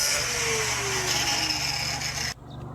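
A grinder cuts into an old air-conditioner condenser with a loud, continuous, gritty whine up close, then stops abruptly near the end, leaving quieter background noise.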